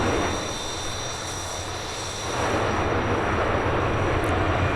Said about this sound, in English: This aircraft's actually now started.